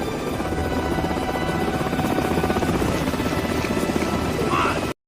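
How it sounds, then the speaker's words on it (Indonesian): A helicopter's rotor thumps in a rapid, steady beat, loud and close, holding constant before cutting off abruptly. "hanya satu helikopter yang mendarat di tempat itu"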